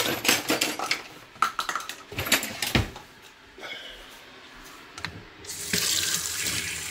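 Water runs from a kitchen tap into a sink while a yeast starter is prepared for home brewing. Close splashing comes in bursts, with a few clinks of dishes or utensils, and the flow swells again near the end.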